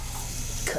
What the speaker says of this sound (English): what's that hissing noise anyway?